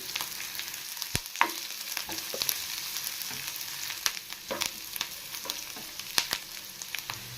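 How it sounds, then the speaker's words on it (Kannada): Cinnamon, cloves, cardamom and ginger fry in hot oil in a pan for a chicken and egg curry, a continuous quiet sizzle broken by frequent light clicks and scrapes of a spoon, with no speech. "ಚಕ್ಕೆ ಲವಂಗ ಏಲಕ್ಕಿ ಸೇರಿಸ್ತಾ ಇದ್ದೀನಿ ಶುಂಠಿ ಸೇರಿಸ್ತಾ ಇದ್ದೀನಿ"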